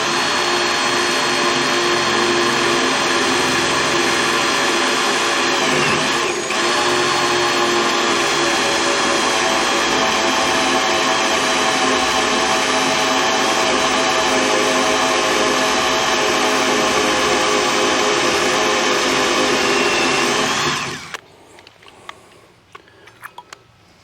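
A power tool drives a tap to cut threads into a rusty trailer hinge, a loud, steady motor whine that holds for about twenty seconds before stopping abruptly, followed by a few faint clicks and handling noises.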